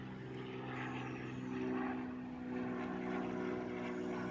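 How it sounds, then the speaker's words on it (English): A propeller airplane drones steadily overhead, a constant low engine hum that holds at moderate level throughout, heard outdoors near a quiet electric SCAG EVZ zero-turn mower. "You still have the airplanes."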